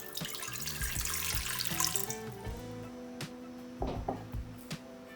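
Tap water is poured into a pot to make a syrup for medialunas de manteca, a soft running splash close by over quiet background music, with no speech.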